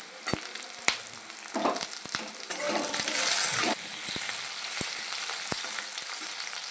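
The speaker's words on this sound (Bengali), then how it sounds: "এবার ক্যাপসিকামটা দিয়ে দেবো এটাও একটু ভেজে নেবো" Capsicum frying in hot oil gives a steady, close crackling sizzle. Sharp clicks of a utensil against the pan come every second or so, and the sizzle swells briefly midway.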